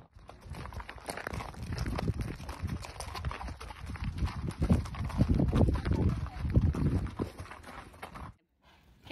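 Horse hooves clip-clop steadily through barrel racing training, close and fairly loud, with people talking and calling out over the footfalls before a brief drop to near silence at the end.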